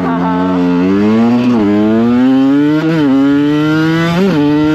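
Close onboard roar of a supermoto motorcycle, loud and unbroken, its engine pitch climbing through several gears with short dips at each shift, no talk over it.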